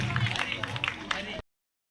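Children clap to welcome guests at the closing ceremony of a district-level sports competition in Asanavar, a dense burst of crowd applause mixed with voices and general hubbub that cuts off abruptly.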